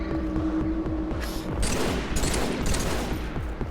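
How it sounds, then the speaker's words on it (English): Rapid bursts of gunfire and grenade blasts clatter through a Halo 3 esports match, loud popping and booming layered densely across the whole stretch with no voice on top. "Grenades being thrown. Grenade spam, as usual."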